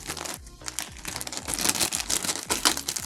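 Thin plastic bags, one nested inside another, crinkle and rustle up close as they are opened to reach a wire saw, with steady dense crackling and brief pauses.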